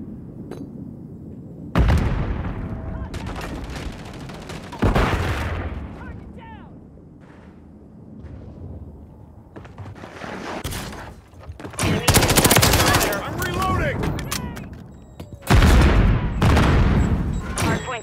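Call of Duty gunfire rattles in loud bursts of automatic fire and heavy booms, separated by quieter stretches, with radio-style voice callouts mixed in.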